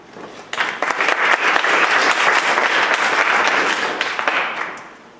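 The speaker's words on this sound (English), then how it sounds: "So if we could give a quick round of applause" A seminar audience welcomes a CubeSat talk with applause: clapping swells quickly, holds as a full, close burst of many hands, then fades away after a few seconds.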